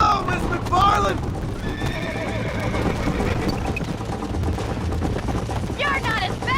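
A horse whinnies loudly at the start and again near the end in the video game Red Dead Redemption, with galloping hoofbeats and rumbling movement in between.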